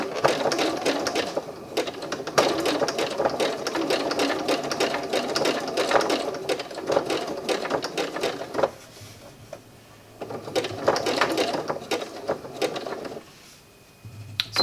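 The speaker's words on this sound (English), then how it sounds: "we're just going to do a couple of stitches, and I'm just going to keep turning my felt round, and I've actually put it on a zigzag stitch." Sewing machine running a zigzag stitch through felt, a close, steady mechanical whirr in long bursts with short pauses between runs, no talking.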